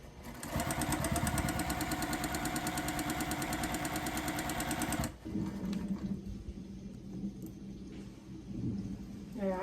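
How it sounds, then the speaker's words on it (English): A sewing machine stitches quilt blocks in a steady rapid whirring run for about five seconds, then stops, leaving quieter handling noises and lighter intermittent mechanical sounds. "This is going to be a lot of stitching."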